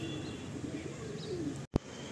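Soft, low pigeon coos from a pigeon loft in Sonarpur, faint and somewhat distant under steady background noise, ending with a brief sharp knock.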